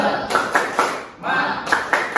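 A classroom of students claps together in a rhythmic chant, loud bursts of group clapping in quick repeated groups with short pauses between, close and lively.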